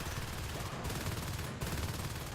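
Automatic gunfire in the sci-fi shooter Natural Selection 2 during a competitive match, a dense, continuous rattle of rapid shots with two brief gaps, loud and close throughout.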